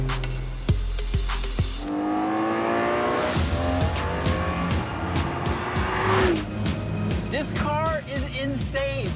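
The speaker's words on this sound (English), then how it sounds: "Do you hear that engine?" A hot rod engine revs hard and its tires squeal and skid, loud and close. The engine rises and falls in pitch over an ongoing car show soundtrack with voices and other background sound.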